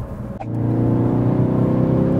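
A used Ford Focus RS engine revs up and then holds a steady, loud, even drone from inside the car, with no talking over it.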